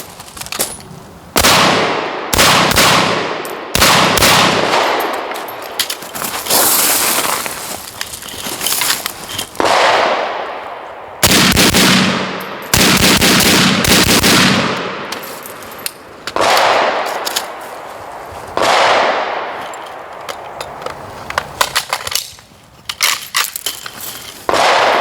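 An RPK light machine gun fires repeated bursts outdoors, loud sharp reports in several clusters with brief pauses between them, some metallic clanks and handling noises in the gaps.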